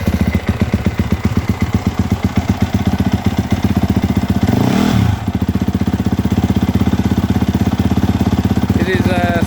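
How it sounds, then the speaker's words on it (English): A 2021 Monster Energy Yamaha YZF 250 motorcycle on its stock exhaust starts and settles into a loud, close, rapid idle with a brief rev in the middle, while a voice speaks over the engine. "So we're gonna start the engine now"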